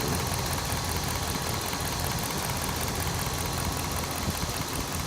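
A truck engine idles with an exhaust leak, giving a loud, steady rumble with a faint ticking pulse throughout, close to the microphone with no talk.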